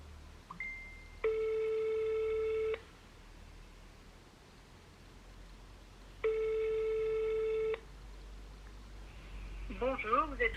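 A telephone call rings out twice, each ring a steady buzzing tone lasting over a second with a long gap between, followed by a brief voice at the end.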